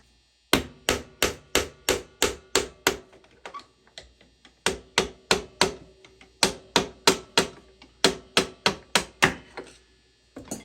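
Someone is hammering a stuck part loose on a worn XR250 motorcycle: sharp metallic blows land in fast volleys of about eight, with a few softer taps in a pause between them, close and loud.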